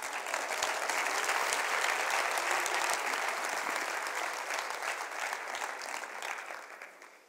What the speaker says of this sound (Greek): Οπότε θέλετε να χειροκροτήσετε ελεύθερα.